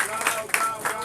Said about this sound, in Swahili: Mpige makofi tafadhali.